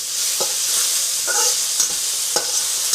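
Chicken pieces sizzle steadily in a hot pan for chow mein, with a few stirring scrapes and clatters breaking through the continuous hiss.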